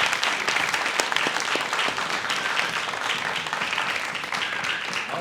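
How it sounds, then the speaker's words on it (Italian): An audience at a film discussion applauds for a guest, a warm, steady burst of many hands clapping together, moderately close and continuing evenly throughout with no talk over it. "Un applauso anche a Matteo."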